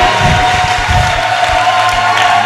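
Church congregation at a prophet's worship service clapping and cheering, a loud continuous crowd roar with rhythmic clapping throughout.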